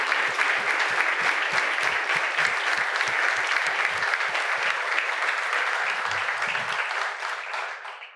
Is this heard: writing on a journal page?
no